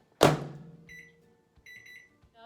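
A microwave oven, just done cooking frozen broccoli, gives a sharp thump followed by a short electronic beep and then a quick triple beep, close and clear in a quiet kitchen.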